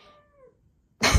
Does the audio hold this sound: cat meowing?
yes